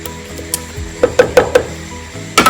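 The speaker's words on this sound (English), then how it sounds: "I'm just going to use my spatula to scrape everything down, right down the bottom" Spatula scraping ingredients down inside a Thermomix bowl, a handful of short close scrapes and knocks in quick succession, with a louder scrape at the end and no talk.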